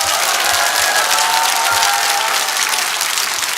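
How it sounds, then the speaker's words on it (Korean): A crowd at a political rally bursts into loud, sustained applause with some cheering, a dense continuous roar of clapping. "여러분들을 위해서 큰 박수 한번 합시다."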